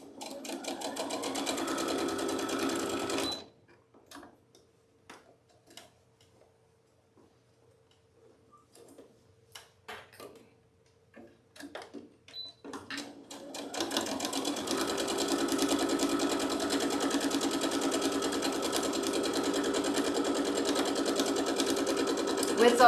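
A sewing machine stitches quilt rows together with a fast, steady mechanical whir and ticking, loud and close, stopping for a stretch of scattered clicks and handling sounds before running continuously again.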